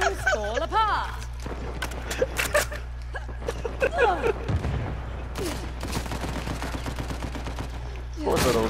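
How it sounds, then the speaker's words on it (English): Shotgun and other gunfire in an Uncharted 4 multiplayer team deathmatch, sharp bursts of shots scattered across the clip beneath a player talking excitedly. "Who's shooting me with a shotgun?"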